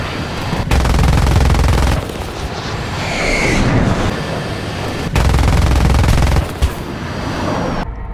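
Long bursts of aircraft machine-gun and cannon fire in a War Thunder jet dogfight against a MiG-17, loud and sustained, broken by short pauses, over a steady engine roar.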